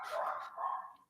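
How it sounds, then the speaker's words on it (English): A female dog barks loudly and close by in one or two sharp, sustained bursts that trail off at the end, with no talking over it. "I can definitely hear the dog barking"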